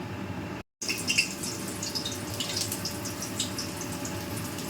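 Vegetables for Bengali shukto, starting with potatoes and sweet potato salted in hot oil, fry with a continuous crackling sizzle and scattered sharp pops after a brief silent gap at the start.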